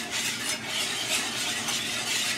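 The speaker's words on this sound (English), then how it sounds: "So just whisk away" Gravy being whisked in a pan holding browned ground meat and bacon bits, a steady close bubbling and swishing with pulsing strokes, no talk.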